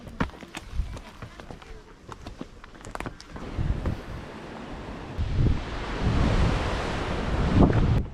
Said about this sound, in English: It's just got really, really windy up here.